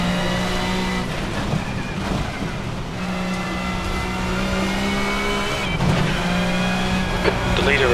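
A Ford super touring race car in the Assetto Corsa racing game, its engine droning steadily with harmonic whine, shifting pitch through gear changes and revs, with occasional tire noise, constant and fairly loud throughout.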